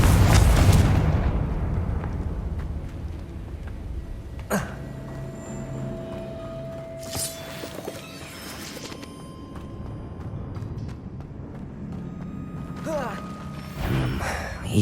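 A Confringo blasting spell in Hogwarts Legacy sets off a loud, deep explosion at the start that rumbles and fades, followed by quieter game effects, clicks and a low ambient drone.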